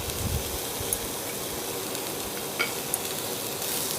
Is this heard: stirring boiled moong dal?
yes